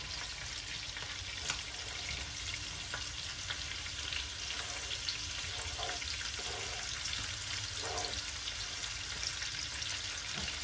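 Chopped onion fries in a pan for a cabbage and ribs dish, making a steady, dense sizzle that holds evenly throughout with no talk.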